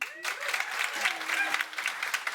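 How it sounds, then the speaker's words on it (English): Audience applause at a climate education debate event, steady dense clapping throughout with some faint voices mixed in underneath. "So, round of applause."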